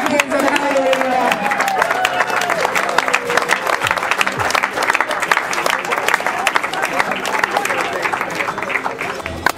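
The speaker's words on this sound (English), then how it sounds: "One more time, big round of applause for your champions of Javelina." A large crowd claps and cheers loudly and continuously at a desert ultramarathon party, applauding the Javelina Jundred race champions, with a voice talking over the dense, steady applause.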